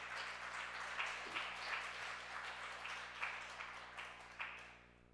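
A church congregation applauding to welcome a speaker, with steady, somewhat distant clapping that keeps a loose rhythm and then fades out at the end.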